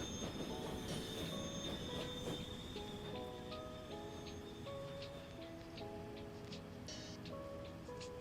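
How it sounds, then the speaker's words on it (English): A train runs on rails in the railway-building game Train Fever 2 on a Great Britain map, with a continuous low rumble, rhythmic wheel clatter and a high tonal squeal at moderate distance, no talking. "Let's have a look at where this train is."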